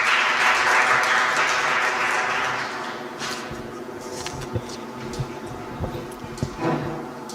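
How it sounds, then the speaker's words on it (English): Audience applause welcoming a speaker to the podium at a seminar, a burst of clapping that is fullest at the start and thins to scattered claps within a few seconds. "Please welcome him with a round of applause."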